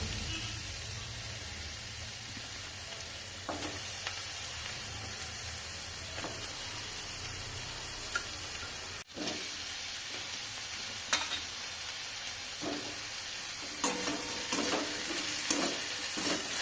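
Mixed vegetables stir-fried in a pan with lightly browned onions tempered with panch phoron and chilli, a soft continuous sizzle under occasional spatula scrapes and clinks, fairly quiet and close.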